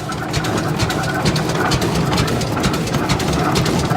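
A 108-year-old 1912 Rumely F tractor engine idling outdoors, giving off a steady, rhythmic low chugging with a dense mechanical clatter at a constant level, with no talking.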